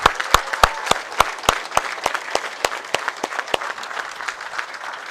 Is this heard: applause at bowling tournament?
yes